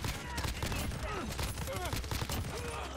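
Dense gunfire in Call of Duty: Modern Warfare, rapid overlapping shots filling the whole stretch with a busy game soundscape behind.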